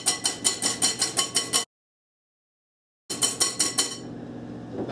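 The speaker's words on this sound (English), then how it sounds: "I whisk them till I get to a fluffy consistency" Egg whites are whisked by hand in a bowl for a Grand Marnier soufflé: quick, evenly spaced metallic clinks of the whisk, then a short silence, then the clinking resumes and trails into steady close-up swishing.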